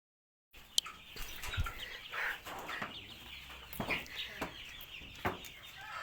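Chickens cluck in bursts near and far over a low farmyard bed, with short sharp calls and occasional wing flaps spread across several seconds.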